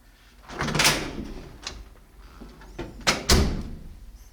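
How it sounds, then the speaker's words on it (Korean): A few soft mechanical clicks and a light thump of a Gateman smart door lock latching and locking, fairly close, with quiet rustling around them. "닫혔을 때도 잠기는 이 부분 기계적인 소리만 들리고"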